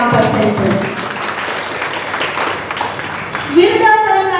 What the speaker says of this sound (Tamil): அவர்களுக்கு ஒரு பலத்த கரகோஷத்தை நாம் பரிசளிப்போம்.